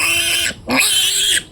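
Five-day-old piglets squeal loudly and close by, two long shrill cries broken by a short gap.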